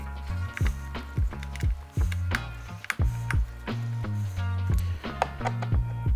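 A door knob latch clicks and catches against a bent metal striker plate during a DIY door knob replacement, giving a series of sharp, close mechanical clicks and snaps over a steady low background.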